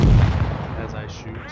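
A tank cannon fires once in World of Tanks Blitz, a heavy booming blast right at the start that rolls off into a fading rumble over the next second.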